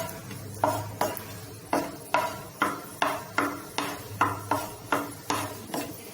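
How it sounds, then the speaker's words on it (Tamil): Cashews frying in ghee in a pan, with a steady run of clinking scrapes as a spatula stirs them, about two strikes per second over a faint sizzle. "இந்த முந்திரியை வறுத்து எடுத்துக்கலாம்."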